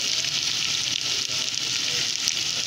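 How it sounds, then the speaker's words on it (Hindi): Ginger and garlic frying in oil in a pan while chicken korma is being cooked, giving a steady, close, even sizzle with no talking. "ये देखिए अदरक लहसुन को भी इसी के अंदर फ्राई कर लिया हमने"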